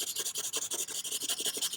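Pencil shading on paper while drawing a snowy owl: a rapid, rhythmic scratchy rasp of graphite strokes, close and steady, with no talking.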